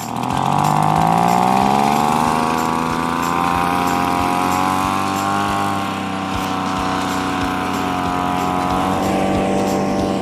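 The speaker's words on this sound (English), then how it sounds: "this leaf blower must be stronger than I thought" A leaf blower runs steadily and loud at close range, its engine droning with a strong harmonic whine that shifts slightly in pitch as it works, heard alone without talk.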